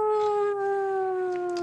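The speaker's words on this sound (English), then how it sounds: "there's a fucking air siren here every Tuesday at midday." Air raid siren wailing outside at midday, a steady sustained tone with rich harmonics holding throughout, loud and unbroken with no voices over it.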